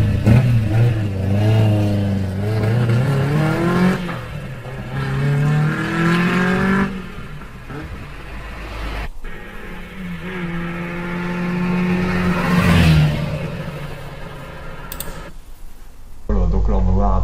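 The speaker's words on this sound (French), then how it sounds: "Une petite accélération de la R8 Gordini pour voir un peu la puissance de ce véhicule." A Renault 8 Gordini with an inline four-cylinder engine revs up in rising, falling surges, loud and close, while someone talks over parts of it.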